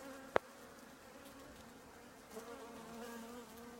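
Honey bees from a nucleus colony buzz steadily around an 8-frame deep hive, a soft continuous drone with one sharp click near the start and a slight swell toward the end.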